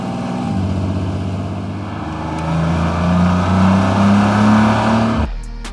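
A Porsche 911 Turbo S with a 3.6-liter boxer engine makes a sustained, throaty engine note that climbs in pitch as it revs up, holds high and loud, then drops off abruptly near the end.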